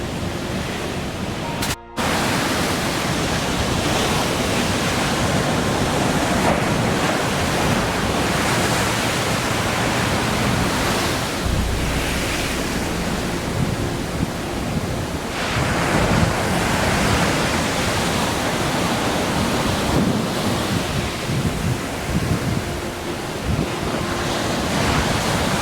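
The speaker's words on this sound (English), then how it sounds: "I've had to move away from the waves because they were quite loud" Loud ocean surf breaking on a British east coast shoreline, a continuous roaring wash of waves with heavy wind buffeting the microphone, no voices heard.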